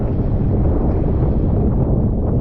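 Gusty, swirling wind on a lake during wing foiling, a loud continuous rumbling roar buffeting the microphone with no other sounds.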